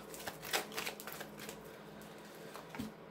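Tarot cards being shuffled by hand make soft, quick papery riffles and taps in irregular bursts, close and quiet, with no talking.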